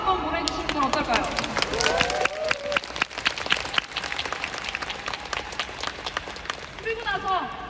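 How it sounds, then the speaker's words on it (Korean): Audience applause at a leadership training event in Thailand, a dense crackle of many hands clapping with sharp individual claps standing out, while a speaker's voice carries over it at the start and end. "이분들을 위해서 박수 한번 보내주시는 건 어떨까요?"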